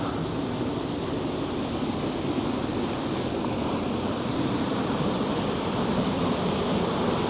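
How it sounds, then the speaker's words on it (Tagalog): Strong water pours through a dam near a temple in Kyoto, a loud, steady roar of rushing flow that never lets up. "Lakas na ng agos na ng tubig."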